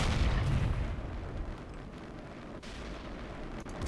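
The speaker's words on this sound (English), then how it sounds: "Let's fire a normal ACPB shell." A heavy tank cannon in the Totaler Krieg mod fires a standard armor-piercing shell, a deep booming blast up front that rolls off into a long rumbling tail, loud and close with no talk.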